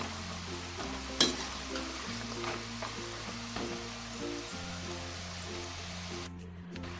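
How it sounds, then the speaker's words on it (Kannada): A ladle stirs a Christmas kuswar snack frying in oil in a pan, giving a quiet, steady sizzle with one sharper scrape of the ladle and a low background hum. "ಈ ಥರ ಒಮ್ಮೆ ಸೌಟನ್ನು ಹಾಕಿ ಚೆನ್ನಾಗಿ ಇದನ್ನು ಮಿಕ್ಸ್ ಮಾಡಿ"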